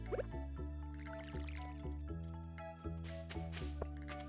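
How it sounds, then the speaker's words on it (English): Watering can being filled in the Stardew Valley video game, a quick burst of bright dripping, gurgling water sounds over looping game music with plucked notes, no one speaking. "we need to fill up our watering can"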